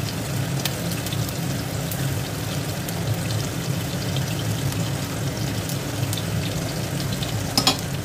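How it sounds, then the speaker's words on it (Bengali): Marinated paneer pieces frying in hot white oil, a steady bubbling sizzle throughout with faint crackles and a brief clatter near the end, close by and without speech. "সাদা তেলটা আমার গরম হয়ে গেলে এই ম্যারিনেট করা পনিরগুলো আমি একে একে দিয়ে দেবো, দিয়ে এপিট ওপিট করে ভেজে তুলে নেব।"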